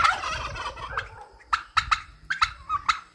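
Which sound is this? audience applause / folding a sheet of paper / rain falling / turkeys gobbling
turkeys gobbling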